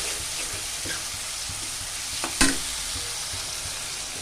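Fish curry spice masala sizzles in a pan, a steady frying hiss with faint stirring taps, then a sharp louder burst of sizzle as water is added.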